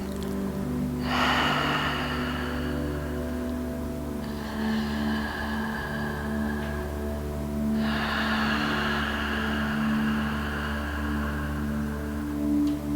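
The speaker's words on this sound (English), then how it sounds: "breathing in and out again through the mouth" Slow, deep breaths drawn in and pushed out through the mouth during a core-focused yoga pose, three long airy exhales spaced a few seconds apart over a low steady hum.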